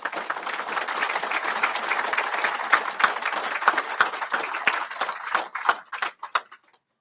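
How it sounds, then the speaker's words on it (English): An audience at a HOPE For Prisoners graduation ceremony applauds as a chaplain comes up to pray. The clapping is dense and sustained, then thins into a few scattered claps and fades out near the end. "This is the only place where people clap for me before I pray."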